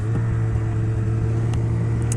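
Snowmobile engine on a trail during a long northern Quebec touring ride, a steady close droning motor with a strong low hum held evenly throughout, with no talk.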